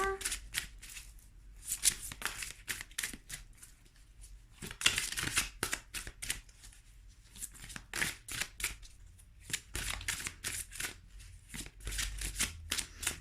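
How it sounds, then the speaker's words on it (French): A deck of oracle cards is shuffled and cut over and over, making quick riffling, flapping bursts in an irregular rhythm, close up, with a voice speaking at times. "Je vais tirer une autre carte."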